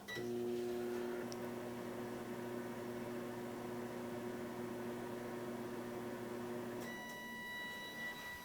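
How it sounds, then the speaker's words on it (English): Microwave oven running while heating a s'more, a steady low hum and whirr with a faint electrical whine, close and quiet, stopping near the end with a brief higher tone. "And into the microwave it goes."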